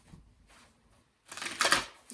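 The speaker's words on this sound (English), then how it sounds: "That was a really bad shuffle." Oracle cards are shuffled in a quick papery riffle, near and fairly quiet, after a few faint soft rustles.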